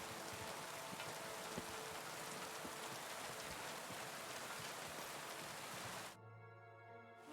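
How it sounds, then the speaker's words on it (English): Steady rain pours in Kingdom Come: Deliverance II, a dense even hiss filling the scene for about six seconds before dropping abruptly to a quieter backdrop with a low tonal hum. "It's raining"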